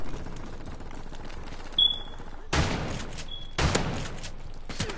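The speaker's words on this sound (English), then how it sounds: "Come on, this shotgun. I'm gonna try it out." Shotgun firing in Modern Warfare Remastered: two loud, sharp blasts about a second apart, each with a short rumbling tail, over low game ambience and a couple of faint electronic beeps.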